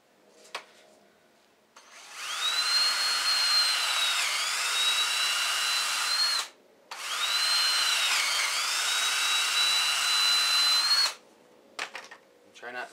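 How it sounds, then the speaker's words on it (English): A power drill whines steadily, drilling holes in snowblower paddles in two long bursts of several seconds each, with a short pause between and a few faint clicks around them. "punch your holes, or drill your holes directly in there"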